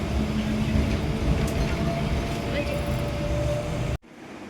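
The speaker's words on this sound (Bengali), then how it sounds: "ট্রেন ছেড়ে দিয়েছে এখন।" A departing train rumbling steadily with a broad, continuous roar and faint tonal whine, heard from inside, cutting off abruptly near the end.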